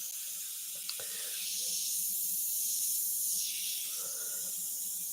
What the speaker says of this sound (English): you can spray it light, it's one color, but you just keep going again and again and again